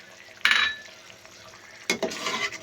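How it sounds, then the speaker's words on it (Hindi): Green peas are tipped into a hot pan of masala and stirred, a sudden sizzle and scrape followed by quieter frying, then a second burst of stirring and sizzling near the end. "अब हम इसमें डालेंगे 1 कप मटर, ताकि ये मसाले के साथ ही अच्छी तरह से पक जाए।"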